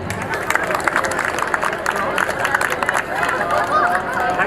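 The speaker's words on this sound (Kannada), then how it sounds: "ಆಗಲಿ ಚಪ್ಪಾಳೆ." A crowd at a village temple fair felicitation gives scattered, lively clapping amid the chatter of many voices, the applause and babble blending in a busy outdoor hubbub.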